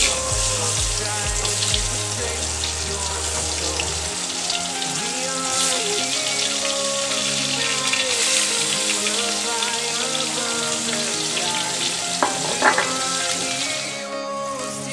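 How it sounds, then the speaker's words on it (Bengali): Steady, dense sizzling of pointed gourd frying in hot oil, crackling continuously throughout with music playing softly underneath. "এবার আমি পটলগুলোকে লাল লাল করে ভেজে নেবো"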